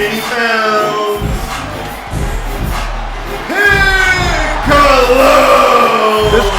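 An arena crowd roars and cheers for Piccolo's ring entrance at a wrestling-style event, loud and sustained with whoops and yells rising in waves, an announcer's voice booming over it.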